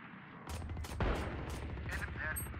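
Gunfire in VALORANT, including a distant sniper rifle: a quick run of sharp shot cracks with one heavier blast in the middle, set against game ambience and no talking.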